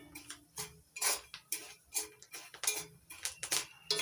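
Dry chickpeas popping and cracking as they roast in a pan without oil or sand, a rapid irregular series of sharp, bright ticks and snaps, close and clear with no talking.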